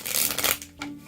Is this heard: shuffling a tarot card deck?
yes